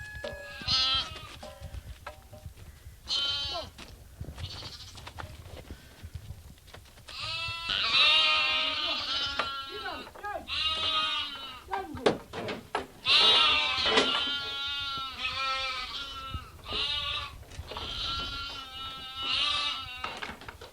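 Goats on a farm bleat again and again, loud and close, several overlapping wavering cries in bursts with short pauses between, over light background noise.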